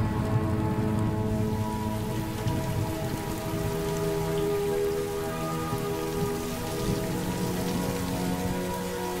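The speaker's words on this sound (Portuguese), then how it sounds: "as chuvas diárias ficam cada vez mais intensas e frequentes" Steady, dense rainfall pours down in the Amazon rainforest during the wet season, a continuous close wash of drops on leaves and surfaces with no pauses or voices throughout.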